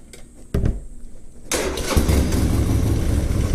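A 2011 Harley Sportster 1200 motorcycle engine cranks briefly, catches, then fires up and settles into a loud, steady, rumbling idle close by.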